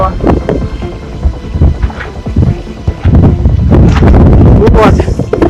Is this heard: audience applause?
no